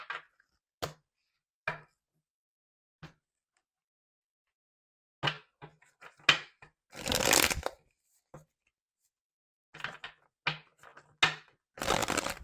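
A deck of tarot cards being shuffled in short, crisp riffling bursts separated by silent pauses, close and clear, with no talking.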